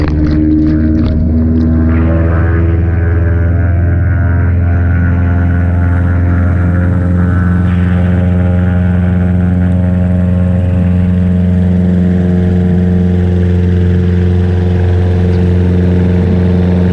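A Thurston Teal amphibious airplane taxis on water, its piston engine droning loud and steady with strong, even low harmonics, held at moderate power and slightly shifting pitch early on, with no talk.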